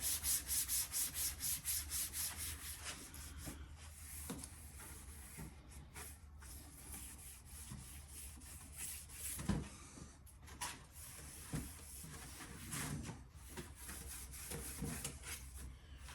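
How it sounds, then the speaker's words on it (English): Dry cloth buffing wax off a veneered wood table top, heard as soft, close rubbing strokes, rhythmic at first and then more uneven, quiet throughout. "Then just get a second cloth and give it a buff off."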